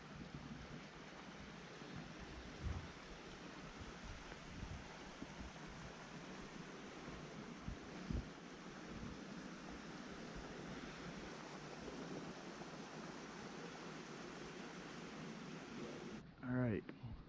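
River flowing beside a backcountry campsite in a rock amphitheater in Zion National Park, a steady broadband rush holding even and continuous throughout, with a brief knock near the end.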